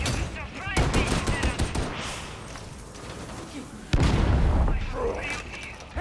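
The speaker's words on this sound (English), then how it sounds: "Just shooting at us." Rapid bursts of gunfire and heavy booms from Warhammer 40k Darktide gameplay with an Ogryn gunner, dense and continuous throughout with a loud surge midway, overlapping game voices.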